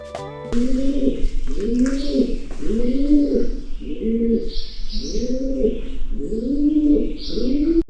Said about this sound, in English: Turns out it was just your friendly neighborhood cave pigeon.